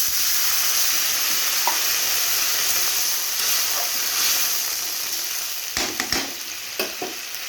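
Water poured into a pan of fried onions for a brinjal and fish curry sets off a strong, steady sizzle and hiss that softens slightly toward the end, with a few clinks of utensils.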